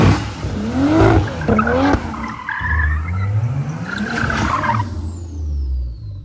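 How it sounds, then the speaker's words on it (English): A car doing a burnout in a home driveway or garage, tires squealing and skidding loudly over a revving engine, close and continuous with no voices. "the person who does the best stay-at-home burnout"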